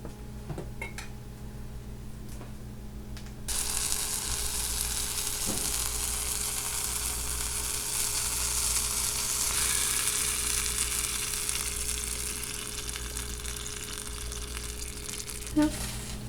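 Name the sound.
ground beef and canned beans sizzling in a pan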